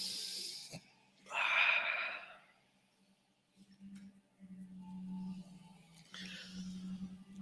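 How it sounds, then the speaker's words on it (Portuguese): Slow deep breaths taken in through the nose and let out through the mouth, two or three audible airy breaths close to the microphone with a low hum between them. "Puxa com o nariz e solta com a boca."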